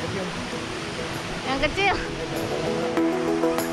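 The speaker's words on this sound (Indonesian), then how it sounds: "Yuk kita mendekat lagi ke air terjunnya." The Ciismun waterfall at Cibodas Botanical Garden gives a steady, broad rush of falling water that fills the background without a break, while people talk close by over it.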